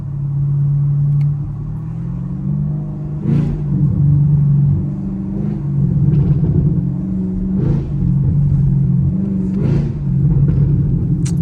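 Rumbling V8 exhaust of a Chevrolet Camaro SS on a rainy drive, heard from inside: a steady low drone with several sharp pops and crackles at intervals as the throttle lifts, loud and close with no talking.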